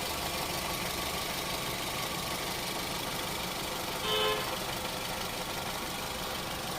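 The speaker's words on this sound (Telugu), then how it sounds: "ఒకసారి ఇంజిన్ సౌండ్ చూడొచ్చండి." A steady car engine idle drones evenly throughout, with a brief slightly louder bump partway through, close and continuous with no talking.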